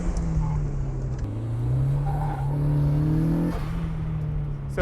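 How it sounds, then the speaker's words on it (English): A turbocharged Mazda Miata accelerates hard on a race track, its engine droning loud and steady with rising and shifting pitch and a brief change near the middle, close and continuous throughout. "we are out here in Matt's turbocharged Miata"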